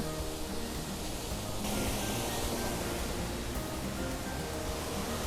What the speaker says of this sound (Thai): นี่นะครับ น้ำตกสปันนะครับ